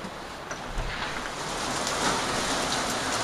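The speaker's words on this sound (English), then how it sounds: "it's just a downpouring" Heavy rain downpour outdoors, a dense, steady roar of falling water hitting surfaces, loud and continuous throughout.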